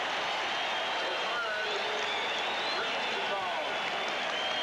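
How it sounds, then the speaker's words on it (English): A Seattle SuperSonics home crowd at a 1980 NBA playoff basketball game against the Portland Trail Blazers cheers loudly in a steady, dense roar with no clear breaks. "And listen to the Sonic crowd. They love that kind of hustle."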